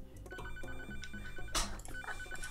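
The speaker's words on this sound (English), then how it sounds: "I gotta answer the phone." An electronic telephone rings in the Papa's Pizzeria cooking game, a steady repeating ring that stays clear and fairly loud over faint background game sounds.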